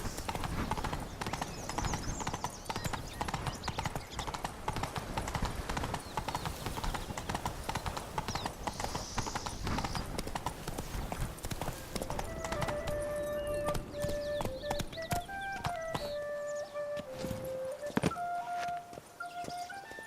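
Horse hooves clip-clop at a steady walking rhythm in The Witcher 3, close and continuous, with a few tonal chimes and a faint voice toward the end.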